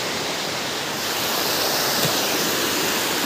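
River water in the Konkan countryside near Rajapur rushes past in a steady, loud, broadband roar that holds evenly close by, with no voices over it.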